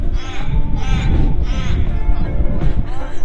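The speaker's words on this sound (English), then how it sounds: "that's the crow making that funny noise." A crow makes a run of odd, drawn-out caws outdoors, four loud rasping calls close by while someone speaks beneath them.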